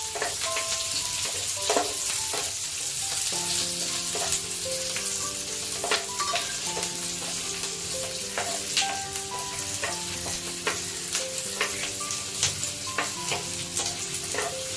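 Paneer sizzles briefly in a little oil over high heat, a steady crackling fry under background music, with occasional clinks as it is stirred.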